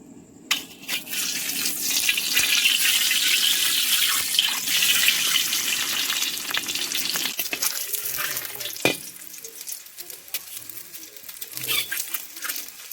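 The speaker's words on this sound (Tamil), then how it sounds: "அவிச்சு வச்ச முட்டையை பார்த்தீங்கன்னா நம்ம பொரிச்சு எடுத்துக்கிறோம்." Boiled eggs frying in hot oil in a pan give a dense, loud sizzle that crackles steadily, then eases into softer, sparser spatters and pops, with no voices.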